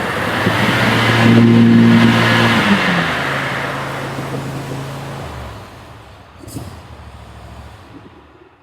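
Bad Boy riding mower with freshly replaced bearings, engine running steadily up close with a roaring mechanical drone that eases down near the end, followed by a brief knock.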